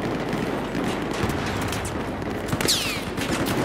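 Machine gun fire rattles in Battlefield 4 as a continuous, moderately distant volley of rapid shots beneath battlefield rumble, with a brief whistling zip near the end.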